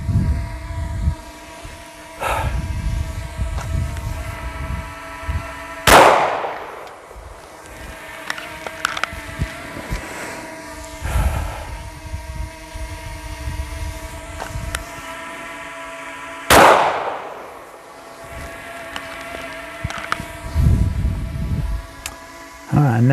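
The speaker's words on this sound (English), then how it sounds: "draw, fire one shot at dot 2 twice" Two sharp, loud pistol shots crack about ten seconds apart during a shooting drill, each leaving a short ringing decay. Between them is a steady, tonal background hum with faint shuffling and a few murmured words.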